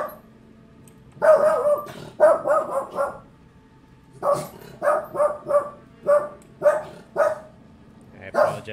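Several rounds of sharp dog barks come in bursts of two to four, close and loud, separated by short quiet pauses, as though reacting to someone at the door.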